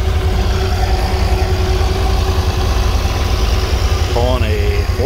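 Case 930 tractor pulling a four-bottom plow through sticky ground at a plow day in Claremont, Minnesota, a continuous heavy engine rumble holding steady and close throughout, with a brief voice near the end.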